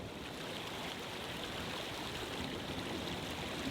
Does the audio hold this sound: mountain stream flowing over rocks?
yes